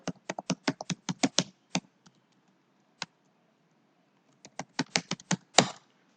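A password is typed on a computer keyboard: a quick run of crisp, close key clicks, a long quiet pause with a single tap, then another fast burst of keystrokes ending in a heavier press.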